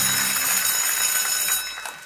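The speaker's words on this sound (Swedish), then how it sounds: "för där ringde det ut." A bright electric bell rings continuously on a quiz show to end the round, a fast metallic jangle lasting about two seconds, with a faint low voice briefly underneath at the start.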